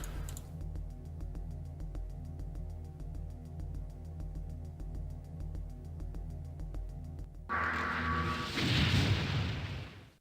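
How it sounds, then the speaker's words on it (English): An explosion in The Journeyman Project video game follows a steady rhythmic mechanical ticking pulse, erupting as a sudden loud, rumbling blast with hissing debris that swells and then cuts off. "Go on then, let's see the explosion."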